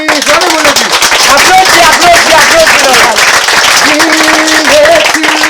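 A congregation applauding at a prophet's service, loud continuous clapping with a sustained voice or tones running over it throughout.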